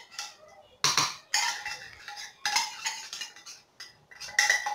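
Spoon scraping and clanking in a pot as tuna and tomato are mixed into a cooked filling for stuffed batbout bread, in irregular bursts of metallic clinks with short pauses between.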